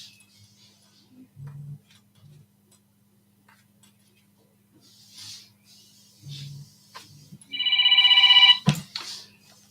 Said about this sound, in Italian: Ecco qua la prima telefonata.